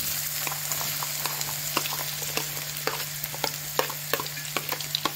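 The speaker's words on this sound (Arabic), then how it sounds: "السمنه بتاعتنا، بسم الله الرحمن الرحيم. هننزل بالبصل بتاعنا" Onions go into hot ghee for a stuffed-vegetable sauce base, frying with a bright, dense sizzle and crackle alongside a low steady hum, with frequent quick stirring clicks from a spoon in the pot and no voices.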